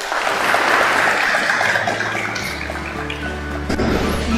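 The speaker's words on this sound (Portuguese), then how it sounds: "E vamos aplaudir" An audience at an online-course conference session applauds, a steady patter of many hands clapping that runs throughout, fairly close and loud, with no speech.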